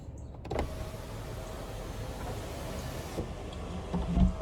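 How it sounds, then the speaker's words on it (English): A one-touch sunroof on a 2022 Hyundai Sonata SEL Plus slides open with a steady electric motor whir lasting about three seconds, followed by a soft stop and a faint bump near the end inside the quiet cabin. "Really like this sunroof. It's one touch. And it goes back pretty far."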